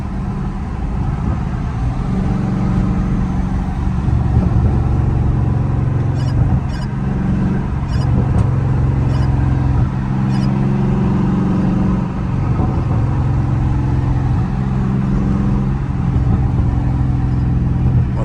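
Dodge Charger Scat Pack V8 rumbling on a street drive, the engine droning low and steady through downshifts, with a few faint crackling pops from the exhaust.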